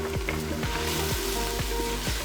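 Curry powder and red pepper flakes frying with translucent onions in a pan, a steady close sizzle broken by regular scraping stirs, with no talking.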